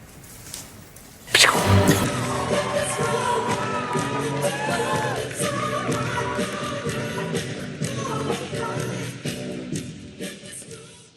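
A large crowd gathered at Howard University on election night roars up suddenly into sustained cheering and shouting, loud and continuous, with whoops and chatter mixed in before easing slightly toward the end.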